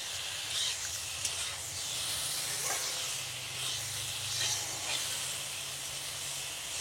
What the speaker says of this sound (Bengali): এগুলি একসঙ্গে একটু কষিয়ে নেব